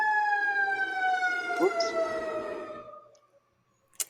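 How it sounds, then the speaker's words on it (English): An ambulance siren wails steadily as it passes, its pitch gliding down as it moves off and fades to quiet, ending with a sharp short knock. A voice speaks briefly over it. "Ambulance going by."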